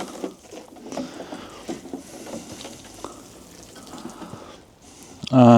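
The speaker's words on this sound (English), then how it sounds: "I'm just going to give it a bit of a water." A compost bed on an allotment being watered in January, a soft uneven splash and patter of water over soil, close and fairly quiet, ending in a brief louder knock.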